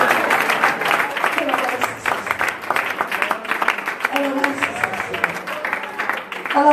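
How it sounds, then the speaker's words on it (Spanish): Church congregation applause rises after a sermon, a dense, continuous patter of clapping mixed with voices and some tonal background sound throughout. "Denle un aplauso."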